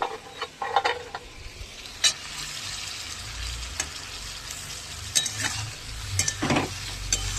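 Curry with lentil dumplings stirred in a pan: repeated scraping and clinking strokes of a spoon over a low, steady sizzle, close and moderately loud, spaced irregularly.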